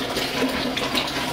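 Well water gushes out steadily from a pump driven by compressed air, a continuous rushing, splashing flow close by with no talking.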